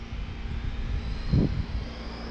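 Arrma Outcast v2 RC car at full throttle, its steady high-pitched electric motor whine holding throughout with a brief louder surge near the middle, heard from a moderate distance with no talking.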